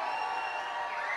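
A church conference congregation raises a sustained roar of shouting and cheering in praise, a dense crowd sound filling the whole moment without a break.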